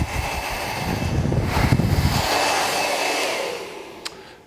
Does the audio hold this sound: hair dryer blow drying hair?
yes